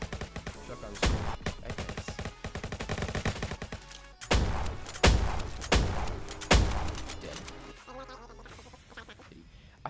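Heavy shotgun blasts from the video game Roblox Jailbreak boom several times in irregular succession, loud and sharp against a dense bed of game sounds and chatter.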